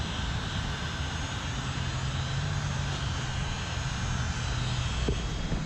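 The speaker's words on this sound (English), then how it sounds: "And be careful when you're using a heat gun." A heat gun blows a steady, loud, even rush of hot air onto the roundel emblem of a BMW F10 535i, holding constant throughout with no voices.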